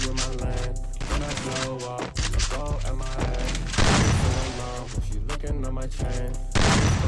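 Gunfire in the mobile battle game Free Fire: loud, repeated shots and booming bursts mixed with game music and tonal effects, with a person talking over the action in places.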